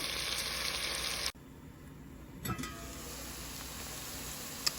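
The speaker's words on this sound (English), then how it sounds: "I'm just going to let them simmer and check on them." Onions simmering and caramelizing in a pan, a steady soft sizzle and bubbling hiss that drops in level partway through, with a faint clink and continued gentle frying afterward.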